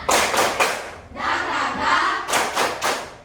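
A group of children claps in rhythm during an Indonesian clapping chant, short bursts of sharp claps alternating with a stretch of loud shouted chanting.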